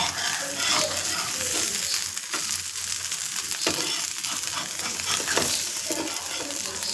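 A barnyard millet (bhagar) dhirda fries in a pan with a constant close sizzle, with soft scraping and bumps as it is flipped over.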